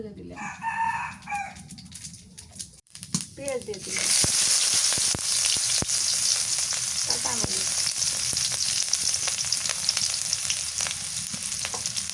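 Vegetables frying in hot oil in a wok (karai) at a village kitchen, a steady loud sizzle filling most of the clip after a brief quieter start with rooster and hen sounds nearby and some brief talk.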